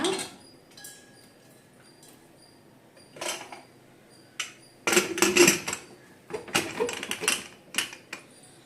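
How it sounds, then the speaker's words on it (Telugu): A metal lid is fitted onto a pressure cooker of mutton biryani, making a few scattered clinks and scrapes followed by a busier cluster of clattering metal knocks, close and fairly quiet. "ఇప్పుడు మనం కుక్కర్ మూత పెట్టేసుకోవాలన్నమాట"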